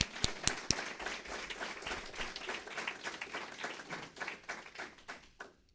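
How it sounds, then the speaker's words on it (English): A launch-event audience gives a modest round of applause, a few sharp individual claps up front followed by a thinner, uneven patter of clapping that tapers off at the end. "So let's give him a big round of applause"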